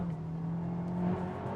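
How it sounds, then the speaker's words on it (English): Honda Type R car engine held at a high, steady rev, a droning tone that holds pitch then dips slightly, moderately loud with no talking. "Got to get this engine revving high."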